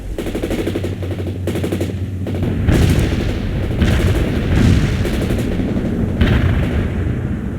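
Gunfire and artillery ring out in a military video game, a repeated series of sharp bursts and heavy booms over a constant loud rumble.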